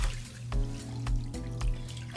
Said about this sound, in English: We're gonna see how this water looks when it comes out.